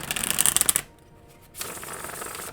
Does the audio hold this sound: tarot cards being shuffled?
yes